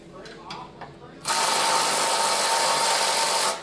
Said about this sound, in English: I'll put all these bolts back in it.